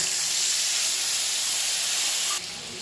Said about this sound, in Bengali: এবার এই জলটা আমি ফোড়নের মধ্যে দিয়ে দিলাম